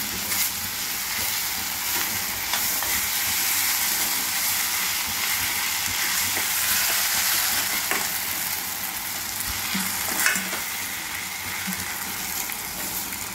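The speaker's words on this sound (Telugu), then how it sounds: "ఇప్పుడు సేమియా కూడా వేసేసి ఇలా కలిపెట్టుకున్నాము." Semiya with sugar in ghee sizzles in a pan while being stirred, a continuous close frying hiss broken by occasional scrapes and clicks of the spoon against the metal.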